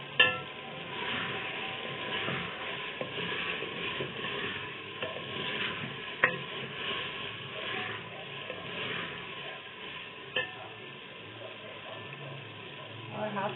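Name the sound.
green chillies sizzling in chicken karahi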